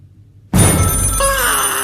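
An old telephone bell rings loudly and continuously after a brief near-silence, from the horror film The Black Phone.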